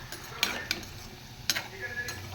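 Colocasia leaf rolls (alu vadi) shallow-fry in a pan with a soft, continuous sizzle, broken by a few sharp clicks and scrapes as the pieces are turned and stirred.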